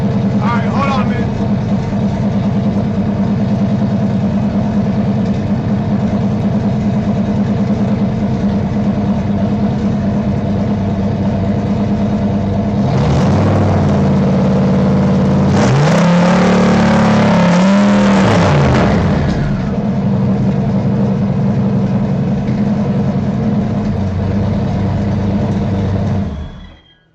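A Mustang engine runs steadily through the clip at close range, with a louder burst of revving in the middle before settling back to idle. A voice talks faintly over it.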